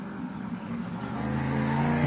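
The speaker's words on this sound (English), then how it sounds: "That car didn't sound real healthy when it came back in" Enduro race car number 35 idles and revs unevenly on return at a pine-forest track, a steady mid-pitched engine drone rising slightly in loudness toward the end, nearby and without talk.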